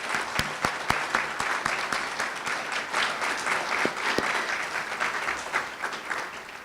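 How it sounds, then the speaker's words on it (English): A school audience at an anniversary celebration claps steadily for the staff, sustained applause from a sizable crowd with a few sharp nearby claps standing out at the start. "Let's give a round of applause to all the staff members that are working here at Bebensee."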